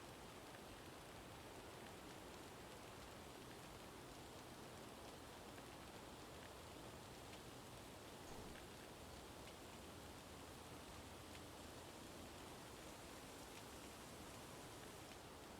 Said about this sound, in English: Now, we can listen to the sound of rain as I look for who to host.